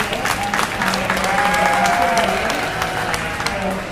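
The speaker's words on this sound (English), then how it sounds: "Let's give them one more big round of applause." Crowd at a 4-H/FFA sheep breeding show clapping for the exhibitors, steady applause filling the space for four seconds with a faint voice underneath.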